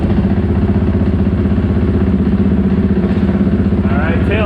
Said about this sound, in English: We'll fire up the bike.